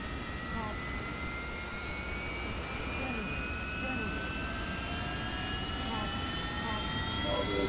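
A Harrier jet's engine whines steadily at ground idle during a cold start in the DCS flight simulator, its rising tonal hum held at a moderate, even level throughout.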